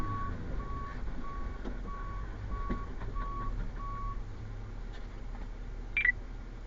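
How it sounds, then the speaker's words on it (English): A truck coming down the ramp in an underground mine sounds evenly spaced reversing beeps over a low, steady engine rumble, with a brief sharp squeak near the end. "There's a truck coming down the ramp"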